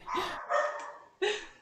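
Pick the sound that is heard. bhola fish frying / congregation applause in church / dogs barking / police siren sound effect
dogs barking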